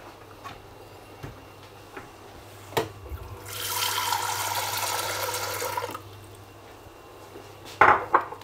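Tap water runs steadily into a vessel for about three seconds during home cooking, framed by clinks of pots and cutlery before and after, close and fairly loud, with no talk.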